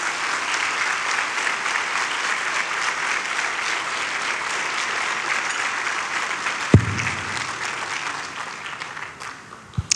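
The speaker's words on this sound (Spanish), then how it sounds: "Un aplauso, por favor." A church congregation applauds at a sermon, producing sustained, even clapping for most of the stretch. One sharp thump lands near the end as the applause fades.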